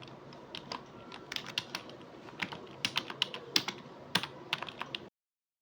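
Fingers type on a computer keyboard at a desktop, a fast irregular run of crisp clicking keystrokes, close and clear, ending abruptly in silence.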